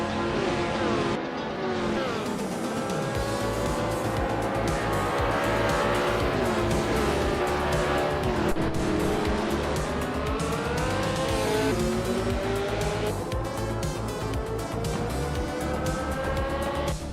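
Race car engines roar continuously in a racing video game, with rising and falling revs, gear-shift sweeps and occasional tire squeals throughout, loud and dense with no pauses.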